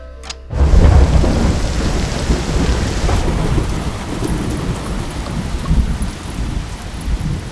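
Heavy rain pours down steadily after a sudden onset, with a rumble of thunder rolling beneath the constant downpour.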